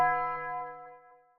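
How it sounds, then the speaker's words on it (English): A single tiny bell in a trap beat strikes once, bright and ringing, then fades away over about a second. "I added a tiny like bell sound that sounds like this."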